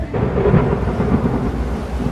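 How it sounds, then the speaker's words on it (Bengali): Heavy rain pours down while low thunder rumbles through it, a brief, loud and continuous storm with no speech. "ট্রেন ছাড়তে না ছাড়তেই বৃষ্টি নামল।"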